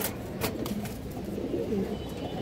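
A pair of black Muslodom pigeons coos softly, a few low warbling phrases close by under steady background hiss.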